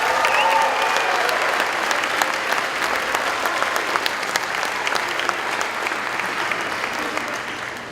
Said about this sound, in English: let's give Mr. Murata a round of applause